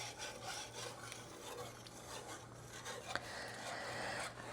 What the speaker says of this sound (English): After you put your milk in and you're making your gravy, you are constantly stirring it.